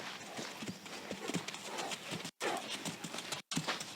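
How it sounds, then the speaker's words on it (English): A horse at a collected canter during liberty work, its hooves thudding in a steady rhythmic three-beat pattern on soft ground, close and clear, with faint background noise. "Collected canter."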